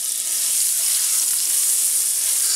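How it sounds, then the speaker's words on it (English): Butter sizzling steadily in a pan before vegetables are sautéed, a continuous bright hiss and crackle at close range, even and unbroken throughout, with no talking. "Now we're going to sauté the vegetables. So I'm going to add another little knob of butter."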